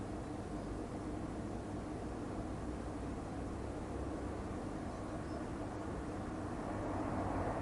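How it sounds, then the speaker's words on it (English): Aircraft flying over Kyiv during possible air strikes, heard as a steady, continuous low rumbling drone with no break, fairly faint and distant, building slightly toward the end, with no voices. "I'm hearing the planes again."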